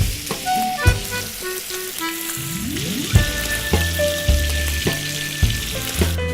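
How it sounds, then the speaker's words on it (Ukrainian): Chicken fillet sizzles steadily in butter in a hot pan, a constant crackling hiss with music playing alongside. "смажимо в ньому куряче філе протягом 10-15 хвилин"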